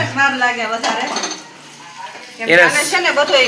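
Dates and ground dry fruits are stirred in ghee in a pan with a metal spoon, continuous scraping and clinking close by, heard under a person talking over the stirring.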